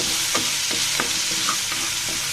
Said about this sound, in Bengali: এবারে তেলের মধ্যে দিয়ে দিচ্ছি আদা রসুন পেঁয়াজ